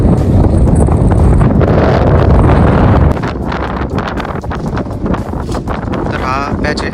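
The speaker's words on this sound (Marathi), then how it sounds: "तर जबरदस्त वारा आहे मधून." Strong wind roars across a rocky mountain trek at Chanderi fort, buffeting the microphone hard for the first three seconds, then easing to a steadier gusty rush.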